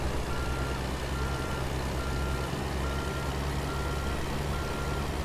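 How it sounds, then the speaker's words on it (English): A Kenworth truck in American Truck Simulator reverses with a trailer of dynamite near a wash plant, its engine a steady low drone throughout with faint steady tones riding on top, continuous and close. "So we'll put this Kenworth in reverse and we'll back this in."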